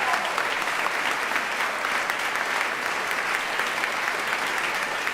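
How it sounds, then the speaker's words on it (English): Continuous, full round of hand-clapping from a benefit concert audience honoring Sheldon S. Horowitz, even and steady from start to finish. "Let's have a round of applause for Sheldon S."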